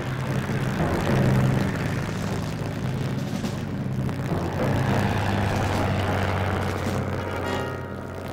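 A World War I propeller airplane drones overhead, its engine a steady, sustained rumbling hum that swells and holds at moderate distance before easing slightly near the end.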